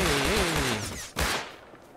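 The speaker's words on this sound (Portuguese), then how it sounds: "Tiro pra todo lado." Bursts of gunfire crackle in quick succession in the video game Rust, mixed with game sound effects, loud at first and then fading out.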